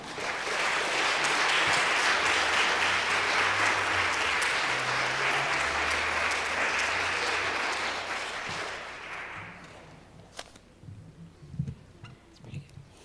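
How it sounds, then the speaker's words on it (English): An audience gives a hearty round of applause at a history presentation event, strong and sustained for about nine seconds before fading out into a few scattered claps and small room noises. "let's give them another round of applause"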